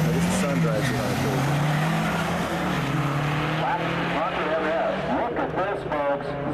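A silver Dodge GLH runs at a 1997 convention drag race, its engine roaring continuously at close range with tire noise, while people talk over it.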